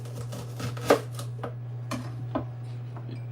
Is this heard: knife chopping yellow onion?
yes